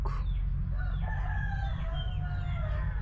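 A rooster crows faintly in the distance on a backyard farm over a loud, steady low hum, with a few soft clucks mixed in.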